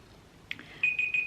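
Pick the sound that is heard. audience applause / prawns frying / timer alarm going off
timer alarm going off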